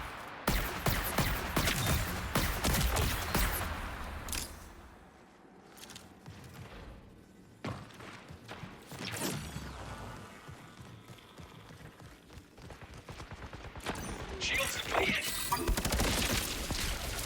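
Rifle shots from a V66 Lookout rifle in the PvP shooter Marathon, sharp cracks firing in quick bursts and scattered single shots amid busy game combat noise, loud and close.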